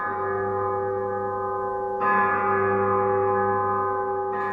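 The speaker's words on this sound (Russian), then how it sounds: "Сегодня во всех церквях, больших и малых, звучит колокольный звон." Church bells ring for Easter at a Russian church: a sustained, humming bell tone rings on, then two fresh strikes brighten it, the second near the end.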